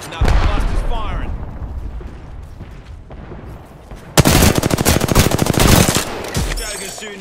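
Gunfire in a shooter video game: scattered shots and game effects at first, then a loud sustained rapid-fire volley of dense, even bursts from about the midpoint, with a voice talking in places.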